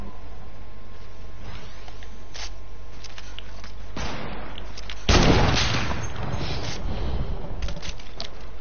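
A heavy sniper rifle fires in a video game: a sharp blast about midway, then a louder booming shot with a trailing rumble, over constant low game background noise.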